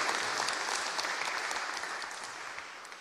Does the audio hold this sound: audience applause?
yes